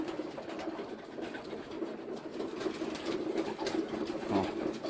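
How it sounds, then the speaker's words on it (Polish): Pigeons coo and murmur close by, with soft scuffling and pecking noises as the flock feeds. "Tu sobie gołębie jedzą."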